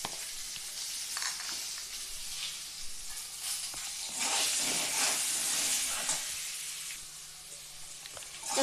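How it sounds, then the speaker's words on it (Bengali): Potatoes fry with salt and turmeric in a hot pan for a leafy greens and fish curry, giving a steady, close sizzle with stirring scrapes, swelling louder midway before easing, no voices. "আলুটা ভাজার জন্য সামান্য হলুদ দিচ্ছি।"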